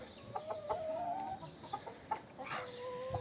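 Chickens cluck and murmur softly in an irregular stream, with a higher drawn-out call rising near the end, nearby with quiet background noise.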